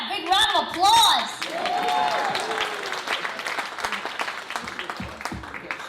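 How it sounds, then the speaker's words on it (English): An audience applauds a young entrepreneur at a youth showcase event, a steady wash of clapping with cheers and excited voices over it at first, the clapping fading gradually toward the end. "Big round of applause!"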